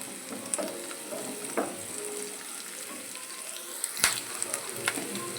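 Onion, green chilli and curry leaves frying in hot oil in a pan make a steady close sizzle with a few sharper crackles and spatters, heard alone without talking.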